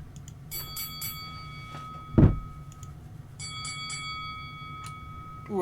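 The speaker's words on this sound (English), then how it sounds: "I think I like the boxing bell." A boxing bell sound effect rings as a quick series of bright metallic dings, then a soft thunk, then a second burst of rapid dings. The strikes are clear against a quiet background.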